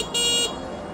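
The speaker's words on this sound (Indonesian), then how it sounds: "Kita tes klaksonnya ya." A single short, bright electronic beep from the horn of a Minerva Electron M1 electric scooter, close and clear, lasting about a third of a second before fading into quiet background noise.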